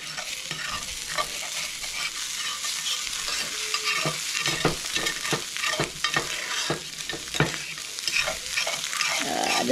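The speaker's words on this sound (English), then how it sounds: "So I'm gonna add the tri-tip roast and the peppers and onions to that." Tri-tip roast with chopped peppers and onions sizzling loudly in a hot pan, with a continuous bright hiss broken by repeated stirring scrapes, close and with no talking.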